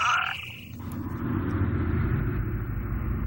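Frogs calling in a spring mountain habitat in southern Europe, a low continuous croaking chorus with a brief higher call at the start, moderately faint.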